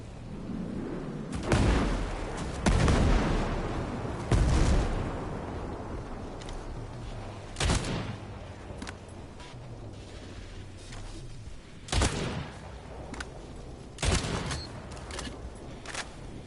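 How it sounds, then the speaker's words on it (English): Mortar and gun fire in the video game Ghost Recon Breakpoint: heavy booming impacts and sharp cracks repeat irregularly over a constant rumbling battle din, loud and close. "Mortars, get down now!"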